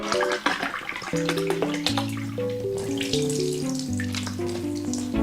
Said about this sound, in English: is there any YouTuber out there that can take my job of pouring water?